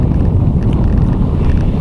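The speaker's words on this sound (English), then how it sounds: "wind's picked up a little bit out here" Steady wind rushes and buffets the microphone aboard an Allied 36 ketch under sail, a constant low roar with no pauses or other distinct sounds.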